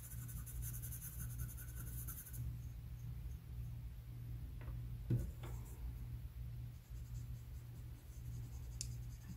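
Charcoal scratching lightly across paper while a water glass is sketched, a soft continuous rub over a steady low hum, with a brief louder scrape midway.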